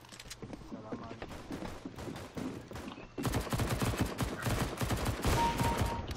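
Gunfire in the game CS:GO: scattered shots early, then a sustained, close burst of rapid automatic fire through the second half, with a voice talking faintly underneath.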